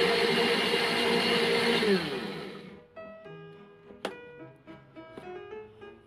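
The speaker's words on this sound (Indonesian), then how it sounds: "Kita haluskan buah naganya, pure aja ya, tanpa dicampur dengan apapun." A kitchen blender whirs loudly while pureeing dragon fruit alone, a steady high motor whine for about two seconds that winds down and stops, followed by quiet clinks and small handling knocks nearby.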